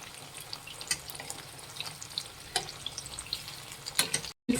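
Kebab frying in a pan gives a steady close sizzle, with sharp pops and scraping clicks as the pieces are flipped, then a brief silent gap before the hiss returns.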